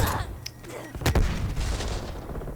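QBZ-83 rifle fire in Black Ops Cold War, heard as a steady stream of close, punchy shots with a sharp crack about a second in and continuous rumbling gunfire beneath.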